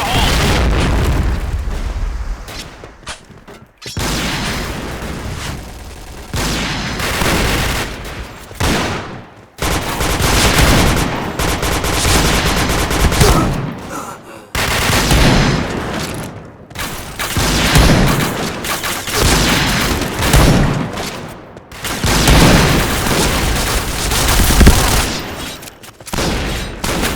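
Grenade explosions and gunfire in a video game on the Sandstorm map: loud, dense booms and rapid bursts roll almost without pause, with brief lulls between heavy blasts, and shouted voices come through the din.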